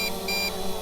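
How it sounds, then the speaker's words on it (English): A camera drone's low-battery warning beeps three times at a steady rhythm over a constant background hum, close and fairly clear. "sorry about the beeping, that the battery's low."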